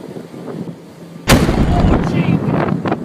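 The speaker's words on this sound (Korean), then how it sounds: "엄청난 폭발 소리와 함께 땅이 마구 흔들려." A volcanic eruption seen from a boat sets off a sudden, loud explosive blast that cuts into near-quiet and then rolls on as a sustained rumble.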